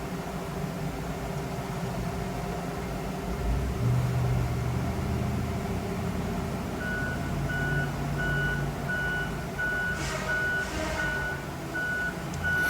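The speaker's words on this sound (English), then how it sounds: "Vehicle coming up the hill." A truck reverses up a hill at a storm-damaged site, its engine rumbling low under a steady series of evenly spaced reversing beeps, with a faint hiss throughout.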